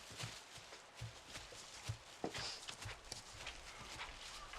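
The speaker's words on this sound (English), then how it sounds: "We just need to load these horses and just wait for Neely to meet us with the pack horses" Horses walk in a western setting with a faint, steady clip-clop of hooves in a loose repeating rhythm, distant and soft against a muffled outdoor background.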